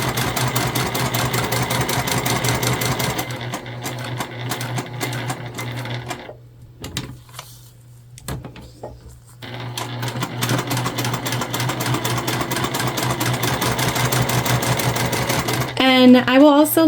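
A sewing machine runs a basting stitch on a key fob wallet, loud and close with a continuous motor whirr, pausing briefly in the middle before resuming at full speed.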